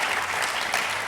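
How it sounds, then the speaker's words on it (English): Conference attendees at a media industry festival applaud a speaker being introduced. A short, even wash of clapping is heard at moderate volume, with no talk over it. "Please give him a round of applause."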